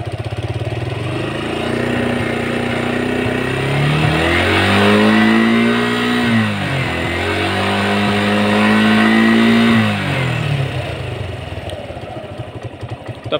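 Suzuki Gixxer motorcycle engine revving up toward 7000 rpm, rising in pitch twice in long sustained climbs and dropping back between them, loud and close with no talk.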